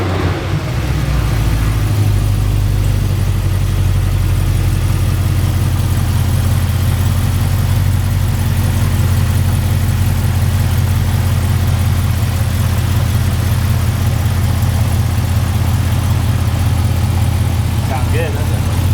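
Cadillac CTS-V V8 starting for the first time after a rebuild, settling into a loud, steady, deep idle rumble throughout, close up, with people talking faintly in the background.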